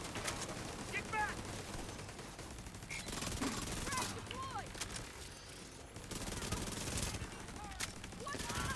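Rapid bursts of turret gunfire in a team shooter video game, dense and continuous across the clip with chirping game effects layered over it and players talking underneath.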